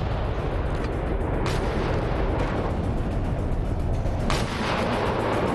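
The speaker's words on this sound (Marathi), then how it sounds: "दोन्ही देशांमधल्या एलओसी आणि आंतरराष्ट्रीय सीमेवर दोन्ही बाजूने गोळीबार आणि तोफांचा मारा झाला" Artillery shelling and gunfire along a border line of control, a dense continuous roar of blasts with a few sharper booms standing out, loud and sustained with no voices.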